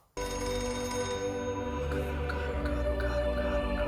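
A telephone rings loudly in a tense scene from the film The Batman, starting abruptly and continuing without a break, blended with dense sustained tones.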